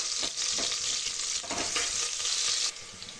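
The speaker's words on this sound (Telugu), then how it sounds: "ఆనియన్స్ గోల్డెన్ బ్రౌన్ కలర్ వచ్చేంత వరకు ఫ్రై చేసుకోవాలండి" Onions frying in oil in a pan until golden brown: a constant close hiss and sizzle with soft stirring scrapes, easing slightly toward the end.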